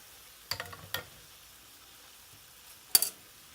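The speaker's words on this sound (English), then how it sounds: "Stir that in." Baked bean sauce stirred in a pan for camp ketchup: a few close scraping clinks of a utensil against the pan, two early and one sharper knock later, over a quiet background with no talking.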